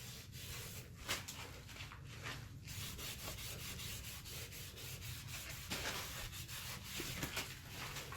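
Cloth rubbing and buffing brown or silver wax over chalk paint on a mirror frame, a steady close scrubbing swish repeating in quick back-and-forth strokes throughout.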